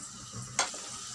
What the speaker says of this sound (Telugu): ఒక రెమ్మ కరివేపాకు, కొద్దిగా సేపు నూనెలో వేగనిద్దాము